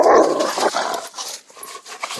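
Zeus, a dog who acts like a Malamute, barks and growls loudly at close range, starting with a strong burst and then continuing in rougher, choppier snarls.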